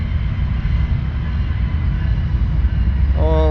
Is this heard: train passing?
yes